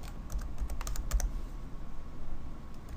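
Someone types on a computer keyboard while entering details into an IT ticketing app, producing a quick run of close, crisp key clicks over a quiet room background.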